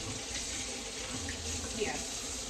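Warm water runs steadily from a tap into a sink for rinsing, making a moderate, continuous close-up splash with no talk over it.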